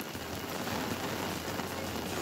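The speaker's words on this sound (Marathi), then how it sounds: "नाशिकच्या येवला तालुक्यात मुसळधार पावसानं हजेरी लावली आहे" Heavy monsoon rain pours down in Yeola taluka, Nashik, a steady, dense hiss of drops on surfaces that holds at an even loudness throughout, with no voices.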